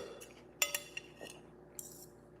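Metal cutlery clinks sharply a few times against a plate while someone eats eggs at breakfast, with quiet room tone between the light taps.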